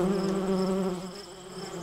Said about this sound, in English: Then up the bees and beetles fly and lift the web into the sky.